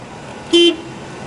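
A single short car horn honk, loud and close, lasting a fraction of a second against quiet background noise.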